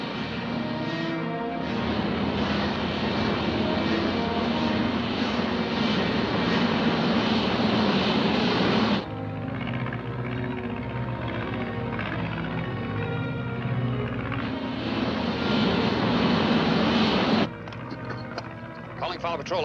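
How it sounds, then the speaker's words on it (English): A vertical-takeoff plane's engine roars loudly and steadily as it taxis and takes off, the drone dipping briefly midway before surging again, with talk partly mixed in. "The takeoff is also similar to conventional planes."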